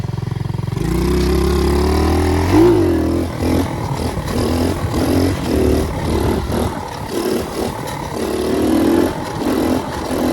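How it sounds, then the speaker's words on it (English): A raw 110cc pit bike engine revs hard and close, its loud buzzing note climbing and dropping through repeated throttle blips with a rough, clattering edge. "Just hear the sound of that raw 110cc just trying to scream"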